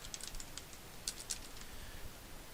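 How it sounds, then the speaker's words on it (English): Light typing on a computer keyboard, a patter of faint, quick key clicks with a couple of slightly louder taps, quiet and fairly close against a low background hum. "and then they would start typing it"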